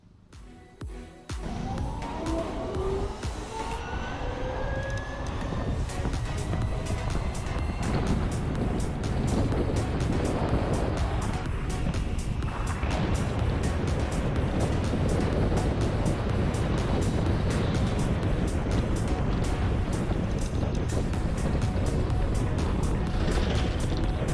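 Ather 450x electric scooter ridden at speed in Sport mode. A loud, steady rush of wind and road noise builds quickly after a quiet start and holds constant, with a faint rising motor whine early on.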